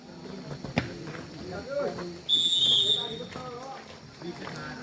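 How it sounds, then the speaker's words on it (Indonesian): A sharp, high referee's whistle blast cuts in briefly during a gobak sodor match, heard over an excited commentator talking continuously. "peluit telah ditiup kembali oleh sang pemimpin laga pertandingan"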